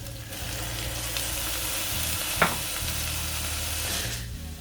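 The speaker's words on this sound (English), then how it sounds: "Keep stirring for another 3 to 5 minutes until your onion paste will become golden brown." Onion paste and tomato puree fry in a pan while being stirred, giving a steady hissing sizzle throughout, broken by occasional scraping strokes and one sharp clink near the middle.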